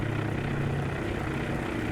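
Propeller aircraft engines from the naval strategy game Task Force Admiral, Battle of Midway, drone steadily before takeoff, a continuous even rumble with no breaks or talk.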